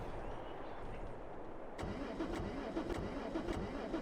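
A tractor engine in Farming Simulator 22, fitted with a realistic damage mod, cranks quietly and then catches, starting abruptly and settling into a steady mid-pitched idle with a few sharp pulses.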